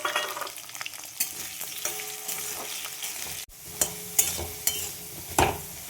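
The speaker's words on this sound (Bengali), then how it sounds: "আলুটা ভেজে নেব" Potato pieces fry with cumin and bay leaf in hot oil in a pan, giving a steady close sizzle broken by repeated scrapes and clinks of a spatula being stirred through them. No one speaks.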